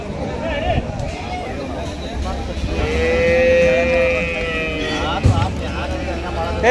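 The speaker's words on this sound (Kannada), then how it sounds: "ಜರ್ಸಿ ಕರು ಇದು." A Jersey calf moos in a long, drawn-out bleat at a cattle market in Ranebennur, India, with people talking and a busy crowd babbling around it.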